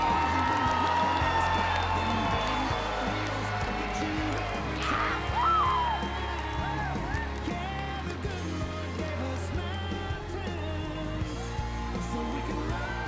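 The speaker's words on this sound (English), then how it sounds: "Let's do one more round of applause for everybody down here on the floor tonight." A large crowd cheers, whoops and claps continuously in a big room at a float and banner judging event, a steady roar of applause with scattered yells.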